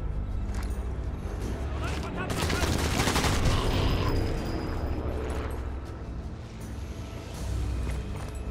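Loud grenade blast and gunfire in the WWII sniper video game Sniper Elite 4, a broad booming burst with sustained rumble and crackling shots over several seconds, with a voice talking over the action.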